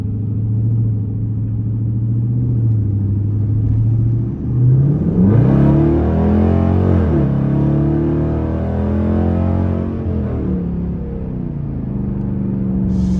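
A loud, rumbling straight-piped 5.7 car engine with gutted catalytic converters idles low, then revs up hard with a rising roar before settling back to a deep idle.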